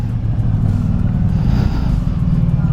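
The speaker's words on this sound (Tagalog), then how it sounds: "malakas yung pitik niya, no, pag binibigla mong i-throttle ng ganyan" A 2024 Honda Gold Wing GL1800 engine rumbles loudly up close, with a swelling rev midway as the throttle is suddenly blipped, then settles back to a steady growl.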